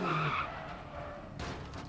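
A rally car spinning out and skidding in DiRT Rally, a short tire screech at the start that fades into engine rumble, then a rush of gravel noise; no talking.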